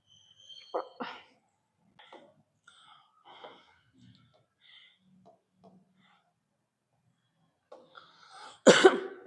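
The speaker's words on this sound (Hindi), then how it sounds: "मुझे खांसी आ रही है एकदम से" A woman coughs in a quiet room, with several short, sharp coughs spread across the stretch and a louder burst of harsh coughing near the end.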